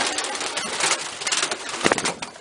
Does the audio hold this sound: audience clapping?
no